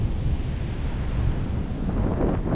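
Wind buffets a microphone outdoors, a steady low roaring rumble with gusty fluctuations that holds loud throughout, with no talking.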